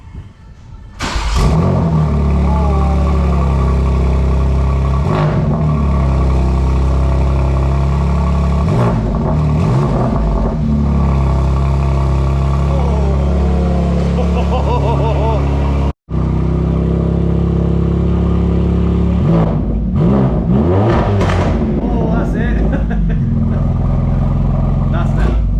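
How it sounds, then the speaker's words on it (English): A BMW G80 M3 cold starts with a loud flare, then settles and is revved repeatedly in sharp bursts, with a brief cut in the middle and more blips after, loud and close. "So we're going to get on to the cold start, or car's been there parked however long."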